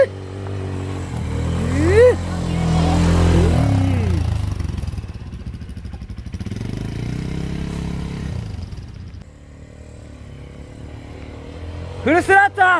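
A quad bike engine at a resort revs at full throttle, rising and falling in loud surges under excited shouting and cheering from riders.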